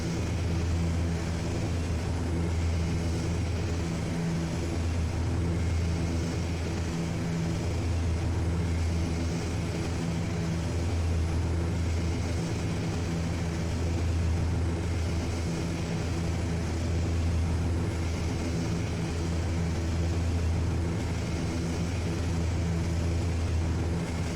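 ATR turboprop aircraft from the X-Plane flight simulator taxiing to runway 23, a steady loud engine drone with a low propeller hum that holds constant throughout, with no talk.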